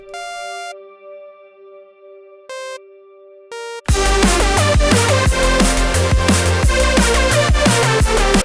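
Simple sine-wave synth melody for a drum and bass track: a few clean, pure tones with pauses between them, then a full loud drum and bass mix with heavy low end and busy drums comes in.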